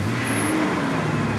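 A car engine with its check-engine light on revs up in a brief, loud, close roar that holds steady throughout.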